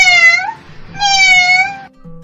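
A cat meows twice in an animated Hindi bedtime story, two drawn-out, clear, close tonal calls with a brief pause between, followed by quiet background.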